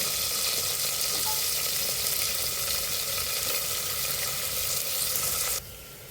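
Onions fry in hot oil in a small cooker, a steady, loud, dense sizzle that runs for several seconds and then drops suddenly to a quieter hiss near the end. Nobody speaks.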